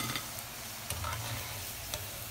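Cauliflower pieces deep frying in oil give a steady, close sizzling hiss, with a few faint scrapes or knocks of a utensil now and then, no talking.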